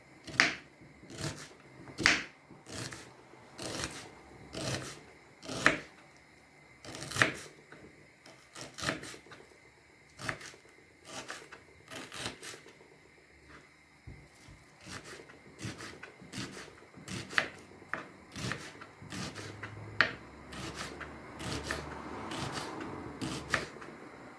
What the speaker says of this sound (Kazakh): Пиязды туралағамыз жіңішке етіп.